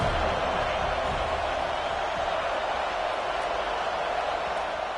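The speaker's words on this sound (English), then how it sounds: "A cacophony of noise, debilitating surround sound, the war chant on 3rd down at the Dome." A loud, continuous crowd roar from a college football video game, the war chant on third down at a domed stadium, a dense wash of many voices chanting and yelling without letup.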